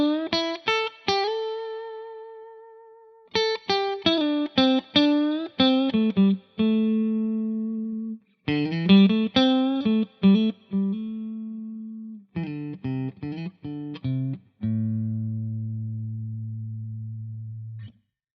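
Melodic guitar licks played through distortion and effects, phrases of quick plucked notes that each settle onto a sustained tonic, ending on a long held low note; clear and close, no talking.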